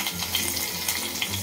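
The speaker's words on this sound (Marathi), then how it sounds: "तेल गरम झालं आहे, सर्वात पहिला मी लसूण घालते" Garlic dropped into hot oil in a pot on a gas stove for a spiced tempering, giving a steady, close hiss of frying with faint crackles throughout.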